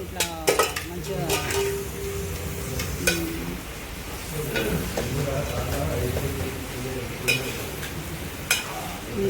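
Country chicken curry being stirred in a pot, with scraping and clinking of a spoon against metal over a steady sizzle, while a voice talks throughout.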